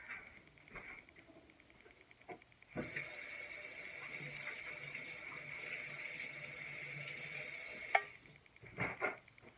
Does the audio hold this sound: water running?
yes